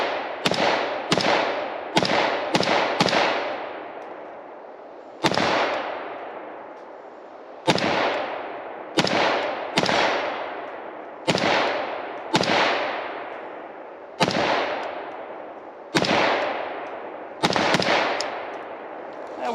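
A CETME-LV rifle fires well over a dozen sharp shots in uneven clusters and pauses, each loud crack ringing a steel target and decaying into a short metallic echo.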